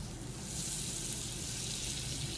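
Butter sizzles steadily in a hot pan, a dense, crackling hiss that stays loud and even throughout with no talking.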